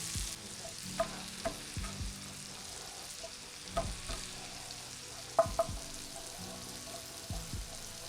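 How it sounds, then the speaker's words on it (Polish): Chicken fillet fries in a pan with a steady soft sizzle, broken by a few sharp stirring or turning clicks from a utensil; close and moderately quiet, with no voices. "Mięso niech nam się podsmaża"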